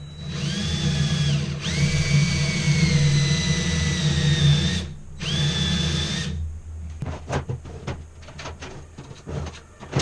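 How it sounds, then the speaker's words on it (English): A power drill whines loudly in several long bursts with brief pauses while drilling fallen branches, then stops, followed by scattered clattering and knocking of wood. "And then just drill like you mean it"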